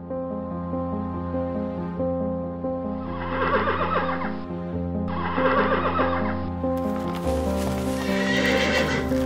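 A cartoon horse neighs and whinnies twice over steady clip-clopping hooves and a musical backing, then a further burst of neighing near the end, all fairly loud and close.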